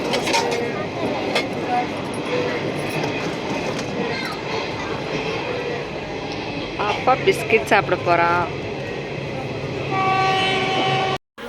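A train rumbles steadily along the rails, with rhythmic clacking and squeaks, while people talk over the noise; a brief tone sounds near the end.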